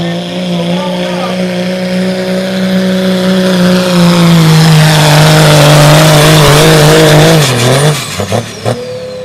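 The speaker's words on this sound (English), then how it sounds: "Got that diesel wound up." Dodge Cummins diesel pickup truck at a truck pull in Springville, Iowa, engine wound up in a loud, sustained high-rev drone that sags near the end, with crowd and announcer talk beneath.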